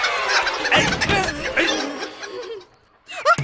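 Close, excited chicken clucks and squawks sound in a rapid, uneven burst, mixed with laughter-like vocal noise, then a brief pause before one last sharp call.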